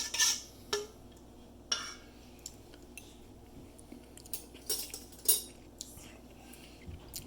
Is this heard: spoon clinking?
yes